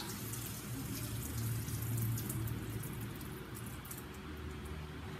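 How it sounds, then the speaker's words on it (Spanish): Water drained off boiled potatoes into a kitchen sink, a steady pouring and splashing rush lasting throughout, close and fairly loud with no talk over it. "Vamos a cernirle el agua a la papa"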